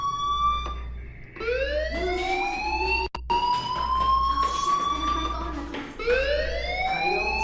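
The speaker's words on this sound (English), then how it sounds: "do you hear that fire alarm? That means you should be outside." In the video game Life is Strange, a school fire alarm wails in repeated rising tones, loud and close, with steady pulsing underneath and brief talk alongside.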